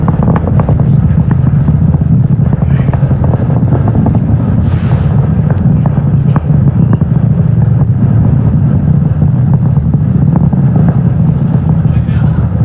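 SpaceX Falcon 9 rocket climbing through supersonic flight after max Q on a Starlink launch from LC-39A at Kennedy Space Center, a loud continuous low rumbling roar heavy with wind buffeting, steady and unbroken with no talk over it.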